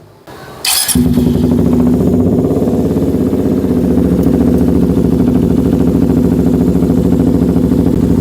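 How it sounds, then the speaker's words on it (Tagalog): A Suzuki GSX 150 motorcycle engine starts after a brief clatter, then idles steadily and loudly with a rapid, even thrumming pulse. "kailangan umaandar muna yung makina. Kailangan naka-idle siya."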